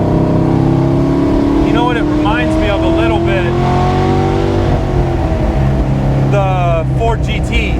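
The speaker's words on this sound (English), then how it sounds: "It's like it's a genuine engine burble. It's a really throaty baritone." A loud, deep, throaty V8 engine of over 500 horsepower burbles and rumbles up close, its pitch rising and falling as it revs, with people talking over it.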